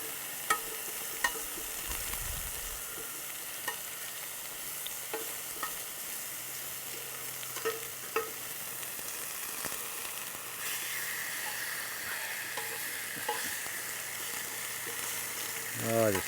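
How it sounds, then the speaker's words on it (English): Onion and a burger sizzle steadily on a cast-iron pan over campfire coals, a loud continuous hiss dotted with small pops and crackles. "Oh, I just love food that sizzles."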